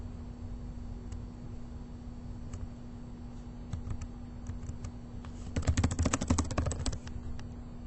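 Quiet keyboard typing, a few scattered key clicks that build into a quick burst of keystrokes, then taper off over faint background hiss.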